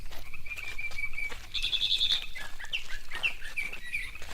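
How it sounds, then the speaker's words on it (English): A mockingbird calls outdoors in a quiet rural setting, sustained high whistled notes and chirps over a soft steady background hiss, no voices. "That's the call of a mockingbird."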